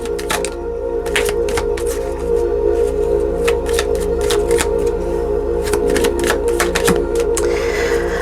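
Tarot cards being shuffled up close in quick crisp riffles and flicks over a steady background hum, without speech.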